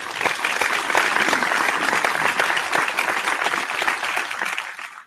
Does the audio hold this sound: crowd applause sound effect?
yes